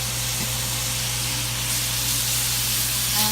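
Jackfruit sizzles in coconut oil on a stovetop, giving a loud, steady, close hiss of frying that runs unbroken throughout.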